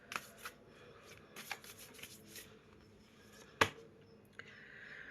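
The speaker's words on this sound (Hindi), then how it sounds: "कुछ एनर्जीज़ और चेक इन करेंगे मोनोलॉजी डेक से।" Oracle cards from a mythology deck being shuffled, a few soft papery riffles and one sharp snap of a card, close and quiet against a low background hiss.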